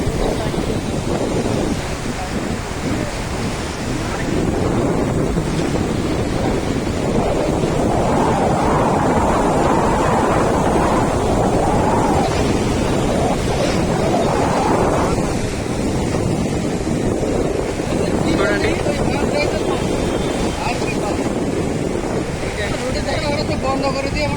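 Steady rushing floodwater of the Krishna River roars continuously throughout, broad and loud, with a gusty wind-like rumble and occasional surges in intensity.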